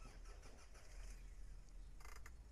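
A car engine starts up in the horror video game No Rest, a faint rough rumble with a brief crank burst near the end, heard at low level with no talk.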